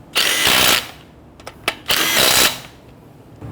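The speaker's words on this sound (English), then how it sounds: "When tightening down the lug nuts, you want to do it in a crisscross pattern." Power tool snugging the lug nuts on a 2011-2017 Nissan Quest wheel, with two long, loud whirring bursts separated by a few short clicks, close by and with no talk.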